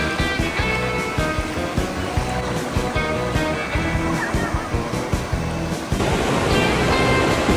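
Ocean waves break in the surf at a beach, a continuous loud roar of churning water that swells a little louder toward the end, with no clear speech.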